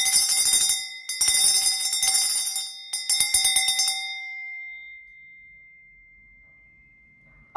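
A ringing bell sounds in several quick bursts of bright, metallic strikes, with short gaps between them, then a long sustained tone slowly fades away to near silence, heard alone without any talk.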